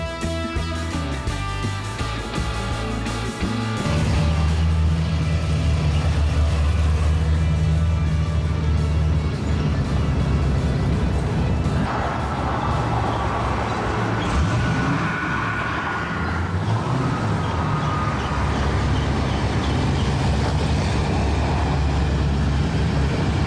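A 1956 Ford F100 pickup with a swapped 5.0 Coyote V8 is driven on the road, a loud continuous engine drone from the cab that rises in pitch as it accelerates, mixed with road noise and no speech.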